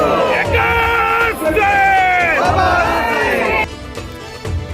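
Large crowd gathered at Vijay Stambh, Bhima Koregaon, on Shaurya Din, a loud, close mass of voices with drawn-out shouts and chanting that fades near the end.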